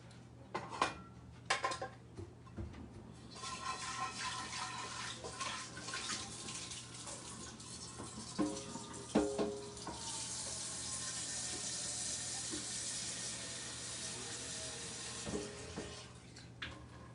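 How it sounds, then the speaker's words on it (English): Tap water runs steadily into a cooking pot, a close, continuous splashing stream with a few clinks of the pot, and nobody speaks. "I'll go ahead and add some water in this pot."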